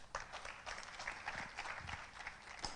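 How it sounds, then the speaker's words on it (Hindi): A crowd claps steadily for a few seconds, a dense patter of applause at moderate volume with no talking. "जोरदार तालियां हो जाए रत्नेश को।"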